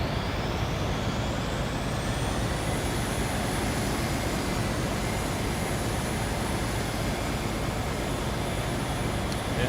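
Albatross aircraft launching from a carrier in Carrier Command 2, a loud, steady roar of engine and rushing air that holds for the whole stretch with a rising whine layered on top.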